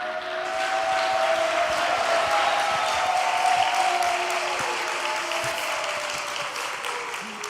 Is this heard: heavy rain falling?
no